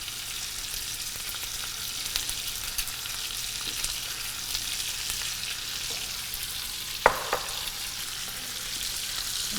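Peppers and other vegetables sauté in a pan with a steady, even sizzle throughout, close and moderately loud, broken once by a single brief utensil knock near the end and with no voices.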